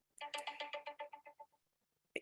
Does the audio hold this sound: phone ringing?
yes